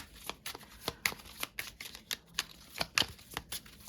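Tarot cards being shuffled in quick repeated riffles, a steady rhythm of crisp flutters and snaps close by, with no talking.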